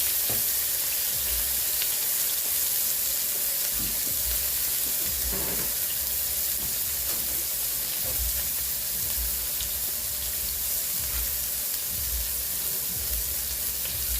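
Onion, garlic and tomato sautéing in hot oil in a pan, a steady broadband sizzle with occasional stirring clinks, continuous and close throughout.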